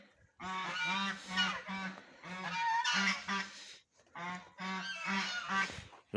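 Geese on a small poultry farm give loud, nasal, close-up honks in three long overlapping bouts separated by brief silences, with no people talking.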